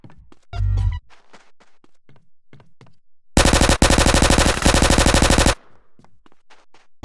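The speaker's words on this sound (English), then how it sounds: "I shoot him in the face." Gunfire in GTA San Andreas: a brief heavy burst near the start, then a long rapid automatic volley of loud shots lasting about two seconds, with light footsteps and taps in between.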